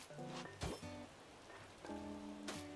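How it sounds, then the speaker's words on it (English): Spring rain storm in Animal Crossing New Horizons, a soft constant hiss of rainfall heard faintly behind gentle game music, with a couple of sharp tapping bursts. "right now it's just a little spring storm"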